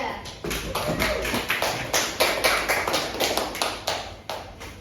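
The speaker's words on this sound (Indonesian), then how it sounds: "Beri aplaus untuk kelompok 3." Classroom applause for a student group in a microteaching lesson: dense overlapping hand claps, steady and fairly loud throughout, from a small group nearby.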